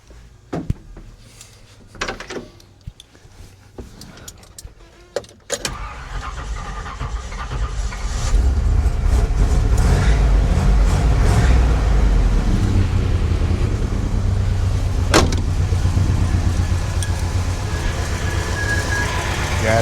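A 1969 GMC truck engine cranks after some clunks and handling noises, then catches and settles into a steady, loud rumbling idle that runs to the end, with brief talk near the start.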